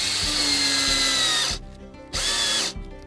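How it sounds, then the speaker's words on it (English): A cordless drill drives screws into cedar boards on a tiny house build, two whining bursts of the motor with a pause between, loud and close with no talking. "And that's when your drill runs out of battery"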